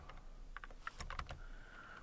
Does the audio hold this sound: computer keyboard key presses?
yes